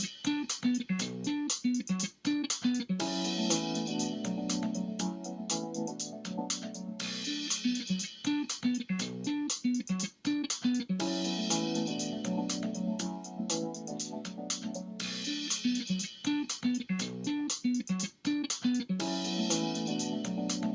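A bass and piano composition made in SoundTrap plays back steadily, with a repeating piano pattern over a bass line in a looping rhythm, moderately loud and without any voices.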